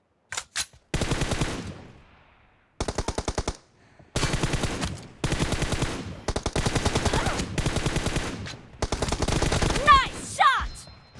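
Loud machine-gun bursts from a shooting video game, several separate volleys of rapid shots with short silent gaps between them, ending in a scattered flurry.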